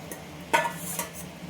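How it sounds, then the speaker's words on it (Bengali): Potatoes and prawns tipped into a pan of spice mix in a home kitchen give a single clattering knock of food hitting metal, followed by faint scraping and light utensil taps against the pan. "এবার আমি এর মধ্যে আলু আর চিংড়ি মাছটা দিয়ে দেবো।"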